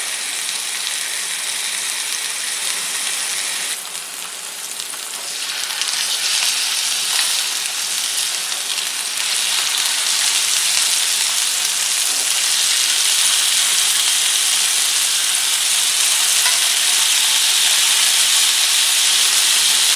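Steady, loud sizzling and hissing of pork chops browning in a hot pan, continuous and close, with no voices.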